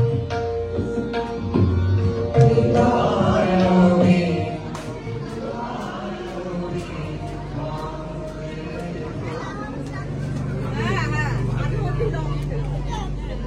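Crowd hubbub inside an auditorium at a California Bay Area Durga Puja, where a program is underway: a dense mix of overlapping voices and chatter, louder in the first few seconds, then a steady murmur with scattered knocks.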